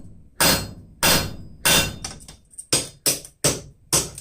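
A hammer strikes a punch through a hot railroad spike on an anvil, eight sharp, loud metallic blows in a fairly steady rhythm, each with a short ringing decay.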